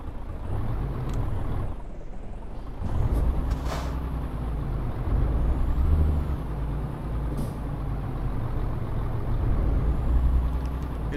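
Truck engine idling with a low steady rumble in Euro Truck Simulator 2, broken by sharp hissing air brake releases, loud and close throughout with no talk.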